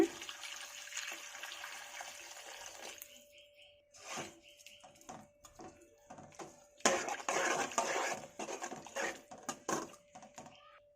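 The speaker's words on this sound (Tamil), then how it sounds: "தேவையான அளவு தண்ணி சேர்த்துக்குங்க." Water is poured into a pot of mango and brinjal spicy curry, a soft splashing pour at first, then clattering and sloshing bursts after a short pause.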